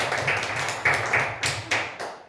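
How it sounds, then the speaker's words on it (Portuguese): A church congregation claps in a quick, rhythmic beat during a Portuguese-language sermon, the sharp claps landing in regular pulses over a few seconds with a low hum beneath. "Dá para aplaudir Jesus por isso?"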